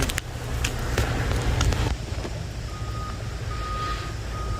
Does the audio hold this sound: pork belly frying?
no